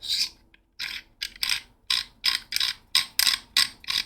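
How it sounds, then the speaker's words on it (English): A pommel screwed onto a lightsaber hilt gives off a run of quick, close ratcheting clicks and scrapes in short bursts, with brief pauses between turns. "just throw it straight in and screw our pommel on"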